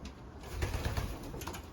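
Racing pigeon, a long-distance checker hen, cooing softly inside a loft, low throaty murmurs rising and falling over a quiet background, with a faint flutter or shuffle, no voices.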